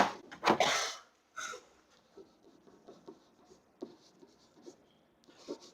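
Pen or marker scratching across a surface while an algebra problem is written out, a few brisk strokes up front, then softer intermittent scribbling with small taps.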